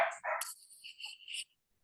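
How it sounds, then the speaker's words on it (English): Two dogs bark indoors, a couple of sharp barks followed by higher yips and whines, fairly close, then quiet. "don't you two start barking"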